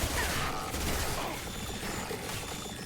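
A single heavy-recoil gunshot from a sniper-style rifle in the video game Mass Effect 2 booms at the start, followed by a rumbling tail and game ambience.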